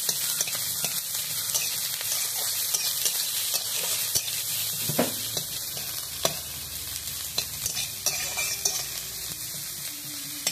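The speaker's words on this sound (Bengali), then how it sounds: "পেঁয়াজটা একটু লাল লাল করে ভেজে তুলে রাখবো।" Onion frying in mustard oil in a pan, a continuous close sizzle and crackle with occasional spatula scrapes and knocks as it is stirred, and no speech.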